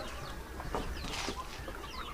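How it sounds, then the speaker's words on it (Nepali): Hens cluck and a rooster calls on a small egg-laying chicken farm in Nepal, several short overlapping clucks and squawks at moderate distance, fairly faint against a low background hum. "यो त फार्म नै हो कुखुराको"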